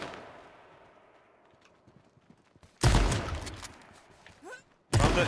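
Gunfire in a shooter video game: two loud, dense bursts of shots, one near the middle and one at the end, following a quieter stretch with a fading earlier report.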